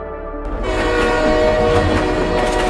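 A cartoon train horn blares loud and sustained in one long continuous blast, with a rumbling rail clatter underneath, close and alone with no voices.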